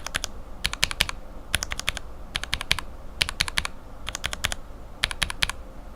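Lubed Cherry bottom-housing mechanical keyboard switches being typed on in quick clusters of sharp clicky keystrokes, each burst a handful of presses separated by short pauses, quiet and close with no talking.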